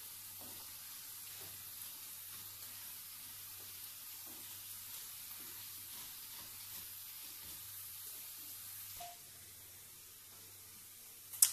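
Quiet, steady sizzling of food frying in a pan, with faint scraping stirs and a low background hum.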